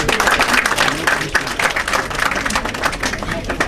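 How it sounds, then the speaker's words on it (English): Audience applause at an award ceremony for tutors, dense continuous clapping from a crowd with crowd voices and talk running underneath. "Round of applause. Come on."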